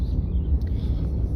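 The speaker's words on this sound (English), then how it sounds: "you're hearing a little jet noise in the background." A low, steady roar of a jet passing overhead, broadband rumble filling the background without a clear beginning or end.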